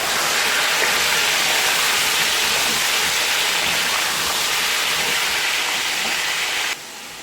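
Chicken pieces sizzle and hiss loudly in a pot of browned onions, a steady, dense frying roar that holds evenly before dropping off abruptly near the end.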